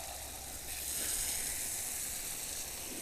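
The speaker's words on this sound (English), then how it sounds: "I'm going to rinse off the barrel." Steady, soft hiss of water spraying as a wheel barrel is rinsed, a continuous even wash of noise lasting the whole stretch with no voices.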